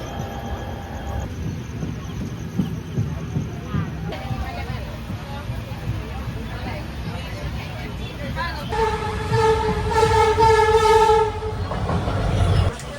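A passenger train running from Guwahati to Dharmanagar rumbles and clatters steadily up close, then sounds a sustained horn blast in the later seconds, with a voice talking over the running noise.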